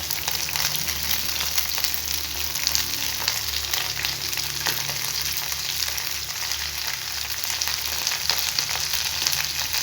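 Mint leaves and onions sautéing in a pan for Tamil mint chutney, a steady dense sizzle with faint stirring scrapes throughout, close and continuous with no talking.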